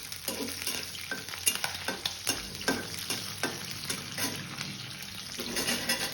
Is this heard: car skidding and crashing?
no